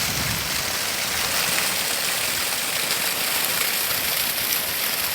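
A steady, full rush of flowing stream water in Quipapá, Pernambuco, continuous and close, with no pauses or other sounds standing out.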